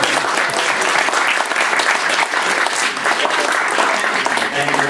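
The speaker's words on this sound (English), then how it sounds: "so I'll take the applause" Wedding guests break into dense, continuous applause, many hands clapping at once close by and steadily loud, with some voices faintly mixed underneath.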